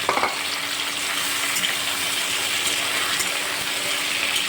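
Shrimp frying with malabar spinach and potato in a pan give a dense, even sizzle while being stirred, with a few light scrapes and clicks near the start, close and fairly loud throughout.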